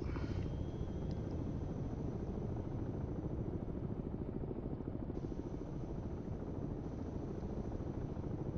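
A helicopter in a submarine video game produces a steady, rapid rotor chop with a low engine drone, held at an even loudness for the whole span and heard alone without talk.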